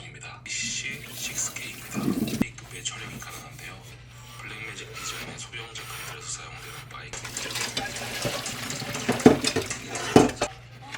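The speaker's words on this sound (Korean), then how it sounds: "감독님 영상을 보면서 설거지를 하도록 하겠습니다" Dishes being washed by hand in a home kitchen sink, with clinking of pots, cutlery and running water, moderately close, with louder clatters near the end and some faint talk in the background.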